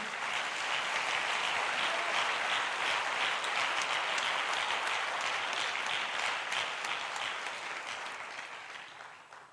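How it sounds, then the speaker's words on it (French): Church congregation applauding for Jesus, a dense, sustained wash of clapping from many hands that holds steady and then fades toward the end. "Si vous voulez acclamer, faites-le bien pour Jésus"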